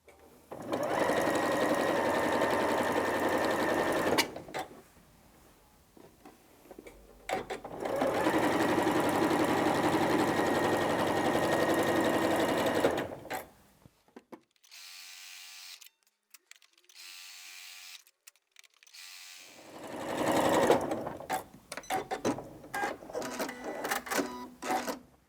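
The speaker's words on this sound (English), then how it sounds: "let's take those to the sewing machine" A sewing machine stitches quilt block pieces a quarter inch either side of a drawn line, running in long steady bursts with short pauses between them, loud and close with no talking.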